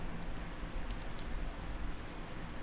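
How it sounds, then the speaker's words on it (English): Rain falls in a video game, a soft, steady wash of patter with a few faint crackles, fairly quiet and unbroken, with no talking. "Oh, it began raining."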